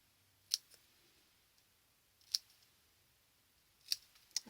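Small craft scissors snip through paper in four crisp, quiet cuts, the first three spaced about two seconds apart and the last two close together, with near-silence in between.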